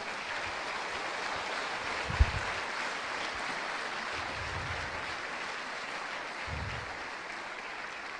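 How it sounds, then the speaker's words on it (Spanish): A church audience claps at length, a dense steady patter of many hands that holds evenly throughout with no voices over it. "den un aplauso al Señor"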